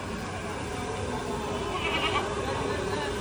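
A goat bleats briefly and fairly faintly at a goat checking point, heard through a constant wash of loud background noise.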